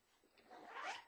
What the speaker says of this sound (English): It's got a vented zipper here